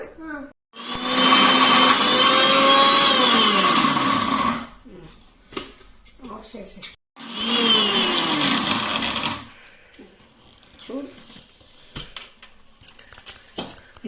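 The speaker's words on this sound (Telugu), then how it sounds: "ఇప్పుడు మిక్సీ చేసుకుందామా" A mixer grinder whirs loudly for about four seconds, stops, then runs again in a second burst, with light clatter and a voice in the pauses.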